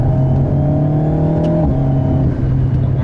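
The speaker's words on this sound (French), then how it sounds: "On a le moteur qui se fait un petit peu plus présent et on a les crépitements au lâcher de pédale" An Alpine A110 S in sport mode revs its engine, giving a loud, sustained close-up drone with a rising then falling pitch and steady tonal harmonics throughout.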